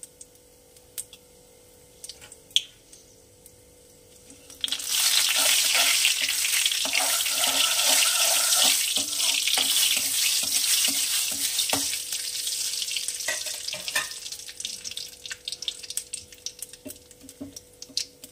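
Cumin seeds, a bay leaf and a dried red chili hit hot oil for a Bengali red lentil and radish tempering, bursting into a loud, steady sizzle after a few quiet seconds, crackling on and then easing off near the end.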